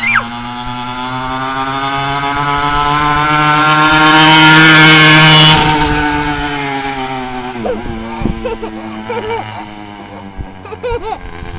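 Small pocket bike engine running, a buzzing high-revving whine that climbs to a loud peak, eases off, then drops to a rougher, sputtering idle, close to the listener.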